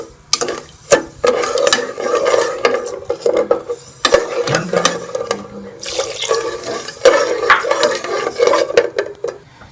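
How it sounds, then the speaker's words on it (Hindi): Spoon stirring and mashing sugar into milk in a metal pot while making zarda, Pakistani sweet saffron rice, with steady scraping and clinking against the pan, close and moderately loud, with no talking. "इसके अंदर हम ये चीनी डाल देंगे और चीनी को मैश कर लेंगे उसके अंदर"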